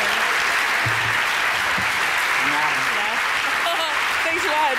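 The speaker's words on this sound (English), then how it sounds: "Let's have another round of applause for these two." A breakfast audience gives a steady round of applause, dense clapping from many hands that holds even and continuous, with a few faint voices and cheers rising underneath toward the end.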